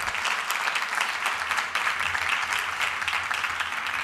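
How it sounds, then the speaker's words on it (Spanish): Loud, dense clapping from an audience in the auditorium of the Museo Picasso Málaga during a carnival opening lecture, a continuous bright roar of hands lasting several seconds with no speech. "Le vamos a dar un fuerte aplauso"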